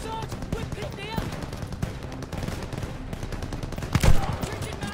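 Machine gun fire from the World War II shooter Call of Duty: Vanguard, played on PS5, crackles as dense, continuous gunfire under shouted in-game combat voices, with a louder burst near the end.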